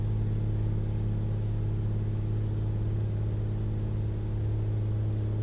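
Beechcraft Bonanza piston engine droning in flight within a flight simulator, a steady low rumbling hum that holds an even pitch and level throughout, with no voices over it.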